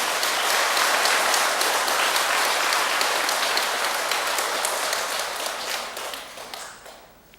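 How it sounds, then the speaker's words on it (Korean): A congregation at a Buddhist monk's sermon claps together in a full, steady round of applause that holds for several seconds, then gradually thins and fades out. "우리가 모두에게 박수 한번 보냈으면 합니다."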